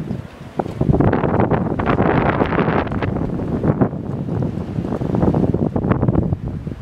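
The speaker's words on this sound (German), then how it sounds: "Ja, heute ist es ein bisschen stürmisch." Strong, gusty wind buffets the microphone outdoors in stormy weather, with a steady roaring rush and surging gusts that stay loud throughout, with no one speaking.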